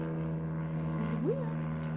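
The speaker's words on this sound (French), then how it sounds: "il y a un petit avion qui passe" A small propeller airplane drones steadily overhead in a sunny mountain setting, a constant low hum throughout, with a brief rising tone in the middle.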